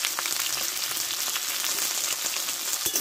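Spices sizzling in hot oil in a pan with a pinch of turmeric and salt, a steady bright frying hiss with occasional faint crackles, close and continuous, no talking.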